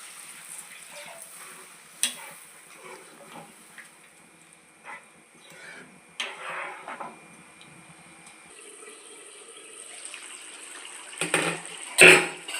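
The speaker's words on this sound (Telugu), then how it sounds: "ఇప్పుడు వాటర్ వేసేసుకోవాలండి" Water poured into a pan of fish curry frying with pieces of fish, a splashing, running pour that builds toward the end with sizzling and a few clanks of utensils in a home kitchen.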